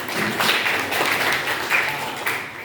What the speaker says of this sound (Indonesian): Kelompok satu kita kasih aplaus